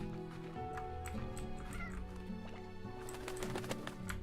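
Baby chickens in the Slime Rancher video game peep and chirp in quick, high bursts over a steady bed of game music and ambient sound, fairly soft throughout.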